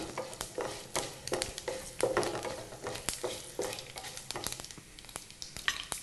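Dried red chillies fry in a pan while a spoon stirs them briskly, producing a continuous crackling sizzle broken by frequent sharp scrapes and taps.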